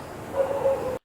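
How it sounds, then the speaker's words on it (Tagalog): Dogs bark and yip briefly near an abandoned hospital in Pampanga, a short burst of a few barks at moderate distance with no talking. "Tumatahol ang mga aso"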